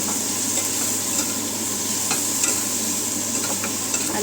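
Potatoes dropped into a hot frying pan for a home-cooked Bengali meal, giving a steady, close, dense sizzle with light stirring scrapes throughout and no talk.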